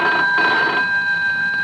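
Telephone ringing loudly and steadily indoors, a continuous electronic bell tone filling the room with no pause and no voices.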